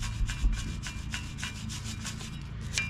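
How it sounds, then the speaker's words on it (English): A small wire brush scrubs around the edges of a brake hub on a Ford Expedition, where the new rotor will sit, in quick, rhythmic rasping strokes, close and steady. "I've got my little wire brush, and I'm just going to try to clean up around the edges here"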